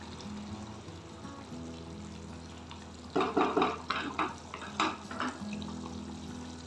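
Spinach simmering in a home kitchen pan while spices go in, a soft low bubbling bed broken by several brief clinks and scraping stirs near the end.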